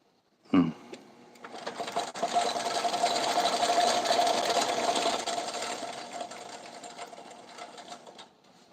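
Line being wound onto a left-handed fishing reel by a spooling machine, a close mechanical whir that starts after a short clunk, builds to a steady drone, then slowly tapers off.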